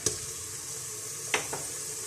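Ginger garlic paste frying with golden onions in a pan gives a steady close sizzle, broken by two sharp scraping knocks of stirring, one early and one about a second later, with no voices.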